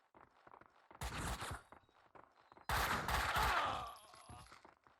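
Bursts of rapid gunfire in the video game Max Payne 2 crackle in two loud volleys between quieter footsteps and movement, with a distant ringing tail after the second burst.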